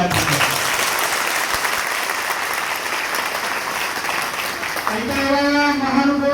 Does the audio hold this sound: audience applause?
yes